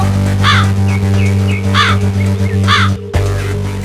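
In an animated cartoon, several loud crow caws ring out one after another over a steady low hum, close and harsh, with short pauses between calls.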